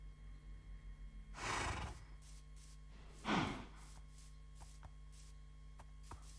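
Horse whinnies twice in a modded video game, each a short breathy burst standing out over a steady low background hum, followed by a few faint clicks.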